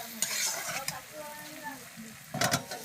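Fried potatoes stirred through a cooked spice mixture in a pan, with scraping spoon strokes and clinks over a soft background sizzle, one burst of stirring at the start and another near the end.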